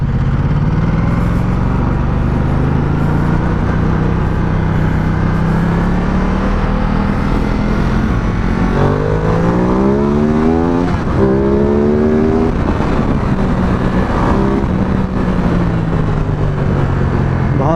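Ducati Multistrada touring motorcycle riding a lap, the engine droning steadily before revving up through several rising pulls mid-ride, loud and close throughout.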